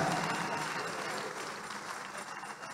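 A church congregation applauding during a testimony service, a dense, steady wash of clapping that fills the space and fades slightly toward the end.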